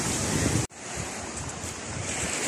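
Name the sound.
sea waves at high tide near a cave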